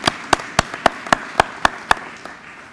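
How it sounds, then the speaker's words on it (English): A handful of scattered hand claps at a dedication ceremony in Columbus: about eight distinct claps in a loose, uneven rhythm, modest and close, tapering off quickly into quiet. "why don't we give them a round of applause"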